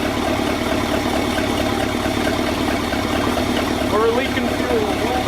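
A 1966 engine idles steadily on fuel fed from a jerry can, a loud continuous low rumble filling the whole stretch, with a brief higher whine near the end.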